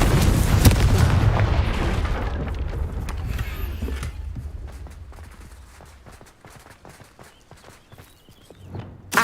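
A Confringo spell blast in Hogwarts Legacy erupts as a loud, heavy rumbling explosion that slowly fades into scattered crackles and debris clicks, with a fresh thump at the very end.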